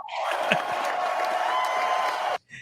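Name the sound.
audience applause at an awards ceremony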